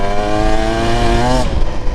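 Husqvarna TE 150 TBI dirt bike engine revving loud and close, a rising two-stroke whine that climbs for over a second, then drops off abruptly into rough idle.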